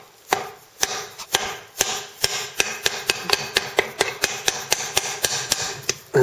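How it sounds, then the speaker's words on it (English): A ball peen hammer taps out a part from a 1937-1954 Chevrolet 3-speed transmission during disassembly, sounding as a series of about twenty sharp metallic strikes that speed up into a quick, close rhythm. "I'm going to try and use my ball peen hammer."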